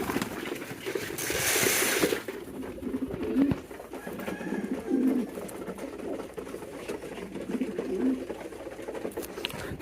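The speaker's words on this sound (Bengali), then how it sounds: "এখানে দেখেন কিছু গিরিবাজ কবুতর দেখা যাচ্ছে" Giribaz pigeons coo at a pigeon market on a cold day. Low, soft coos repeat every second or two over a steady murmur of market noise, with a short burst of rustling noise near the start.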